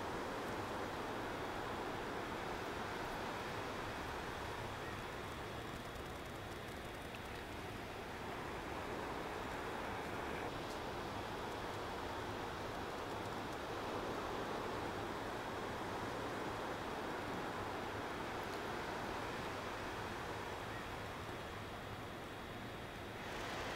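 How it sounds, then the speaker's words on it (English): Ocean waves on a shore, a soft, constant roar of surf that barely rises or falls, heard alone and faintly for over twenty seconds. "Notice the waves."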